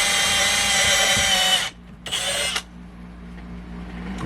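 A drill fitted with a step bit bores a hole in the floor of a 1964 Ford Galaxie, whining loudly for under two seconds, then giving a second short burst before falling to a low background hum.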